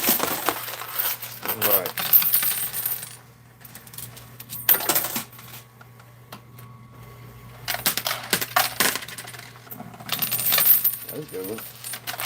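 Quarters drop and rattle inside a coin pusher machine in repeated metallic clinking bursts, near and bright, over a steady arcade hum, with someone speaking briefly.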